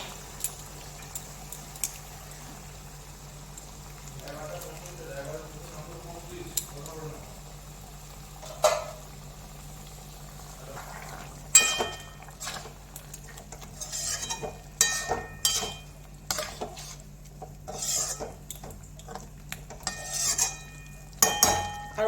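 Mustard and green chili paste goes into chicken cooking in a pot for mustard chicken: a quiet stretch, then a spoon scrapes the pan and clinks against it in a run of sharp, irregular clatters.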